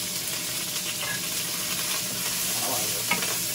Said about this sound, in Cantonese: 炒下佢。